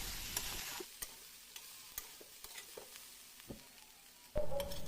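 Garlic-ginger paste and spices fry in a pan over medium-low heat for a mushroom curry, with a soft steady sizzle and scattered stirring scrapes and clicks, then a louder burst of sizzling near the end.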